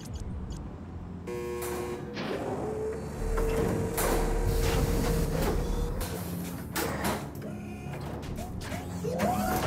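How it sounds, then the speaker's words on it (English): Cell block doors in the Mass Effect 2 video game grind open with mechanical whirring, humming and clanks, sustained and fairly loud alongside game ambience, with no speech. "If we hack that control, every door on the cell block opens."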